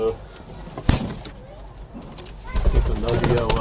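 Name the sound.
pigeon cooing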